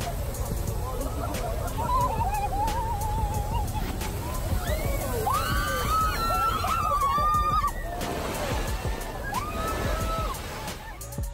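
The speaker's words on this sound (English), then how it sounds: "Visitors screamed in shock and wonder." A crowd of visitors shrieking and screaming in overlapping bursts as Yellowstone's Steamboat Geyser erupts, rising and falling against a steady rushing background.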